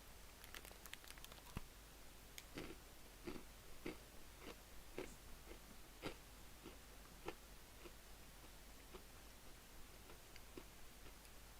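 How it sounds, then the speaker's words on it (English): Someone eating a crunchy bar, with soft, irregular crunching clicks scattered through a quiet, steady hiss of room noise, faint and fairly close. "I'm eating a crunchy bar"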